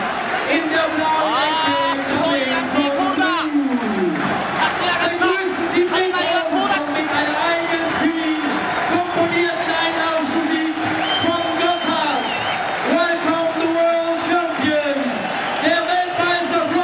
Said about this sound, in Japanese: 館内の歓声がこの控え室前まで届いている